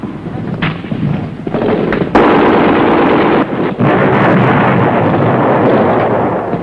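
Heavy gunfire in a Vietnam War battle between an infantry platoon and Viet Cong, loud and continuous with dense overlapping rifle and automatic bursts and a few sharper cracks, with no speech.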